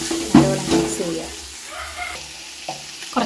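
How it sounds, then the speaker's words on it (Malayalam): A spoon scrapes and stirs salted beef biryani masala in a pot, with a soft sizzle underneath and a few clanking strokes close by. "ഇതൊന്ന് ഇളക്കി മിക്സ് ചെയ്തെടുക്കാം."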